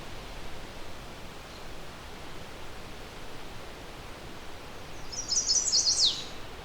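A songbird in the Huron Fringe gives a single short burst of quick, high chirping song near the end, fairly distant over steady wind-like background noise.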